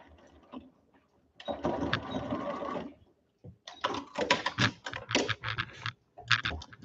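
A home sewing machine stitches around a quilted clip cushion in bursts, a steady run of rapid needle chatter, a pause, then several shorter stop-start runs as it back stitches, close and clear with no talking.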